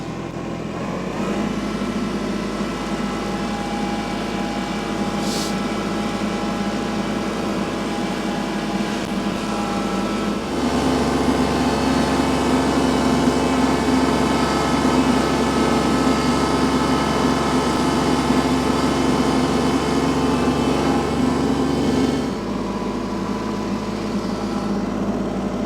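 Kubota L3301 tractor clearing snow from a gravel driveway, its diesel engine droning steadily and loud, rising to a heavier, harder-working tone midway before easing back.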